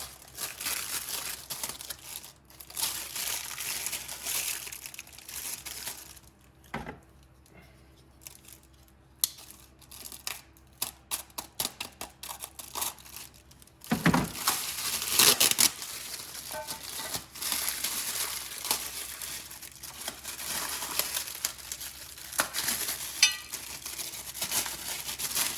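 Plastic packaging around golf cart rear seat kit brackets for an EZGO cart is unwrapped by hand, with close, loud crinkling and crumpling in irregular bursts, a few sharp tearing rustles, and brief pauses throughout.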